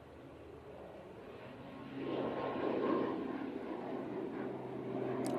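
An ATR turboprop airliner departs from Manchester Airport, its faint, distant engine drone swelling after a couple of seconds into a steady propeller rumble.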